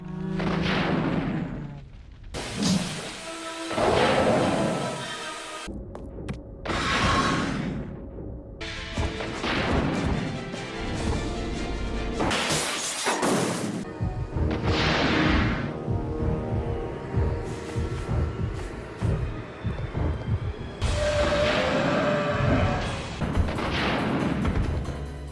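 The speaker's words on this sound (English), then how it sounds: "enjoy this little show of the rocket launcher" Rocket launcher blasts and heavy explosions from Resident Evil Code: Veronica X, loud booming detonations and crashing impacts in repeated bursts with short gaps, ringing out over a dense game soundtrack.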